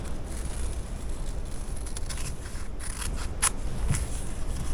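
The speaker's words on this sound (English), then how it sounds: "Cut it right in the middle, because all we want is this outside edge right here." Scissors snip through fabric while a pennant-style patch is cut from a hoodie sweatshirt, producing soft, close, irregular cutting sounds over a steady background hiss with no talking.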